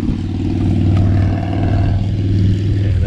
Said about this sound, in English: and that bike is loud.